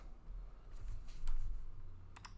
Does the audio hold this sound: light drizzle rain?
no